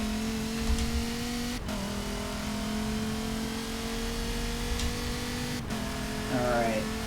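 A Dodge Viper race car engine in a racing sim video game drones steadily at high revs, with two sharp downshift blips breaking the tone and a rising rev near the end.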